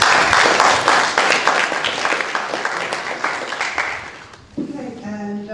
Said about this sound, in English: since we've now applauded the candidates